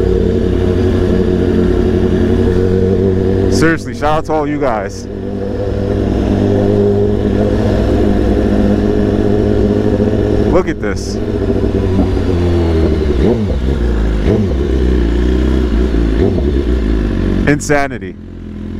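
A BMW S1000RR motorcycle rides through Manhattan traffic, its engine droning steadily with occasional revs and gear changes amid city clatter, while the rider talks loudly over the noise.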